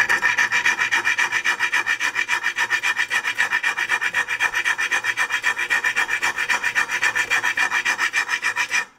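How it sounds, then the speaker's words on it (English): A small MXZ pocket saw rasps steadily across hard ceramic tile in quick, even back-and-forth strokes, close and gritty, continuing without pause until it stops abruptly. "the MXZ pocket saw on its packaging as well as in the infomercial claims it can cut through tile"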